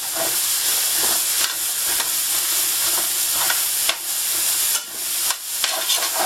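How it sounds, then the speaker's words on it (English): Vegetables with thyme sizzle loudly in a hot pan for a Cajun stew, a dense continuous frying hiss broken by several sharp scraping stirs near the end. "We'll stir them around, and these need to soften up just a little bit."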